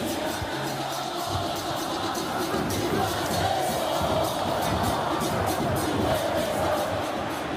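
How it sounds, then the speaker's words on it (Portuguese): A large stadium crowd at a Cruzeiro versus Vasco match in the FIFA 23 video game, keeping up a dense, continuous roar of cheering and chanting throughout with no distinct breaks. "a torcida segue apoiando, mesmo com o time atrás do placar"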